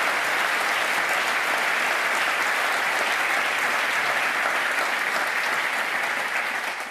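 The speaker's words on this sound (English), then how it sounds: "something I think we can acknowledge once again with a round of applause" A large audience applauds a Nobel Peace Prize laureate at a formal session, with dense, steady clapping that holds at full strength throughout before tapering slightly at the very end.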